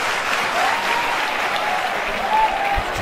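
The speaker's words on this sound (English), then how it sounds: "You can hear this Australian crowd really getting behind this one" A cheering Australian crowd in the video game WWE 2K, at a Melbourne wrestling match, gives a steady loud roar of applause and shouting that fills the whole stretch with no break.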